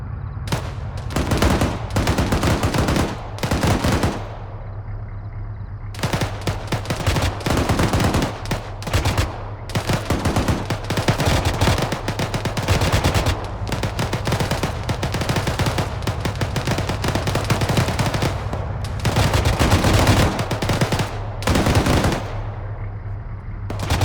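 Dense, sustained gunfire from the military shooter game ArmA 3 during squad combat around a hotel building, with rapid automatic bursts, overlapping shots and brief gaps, loud and continuous throughout.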